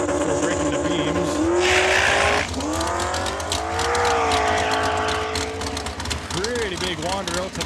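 Mustang and Duster drag racing at Saskatchewan International Raceway: loud, sustained engine roar with rising revs and shifts, tire noise throughout, while an announcer talks over it.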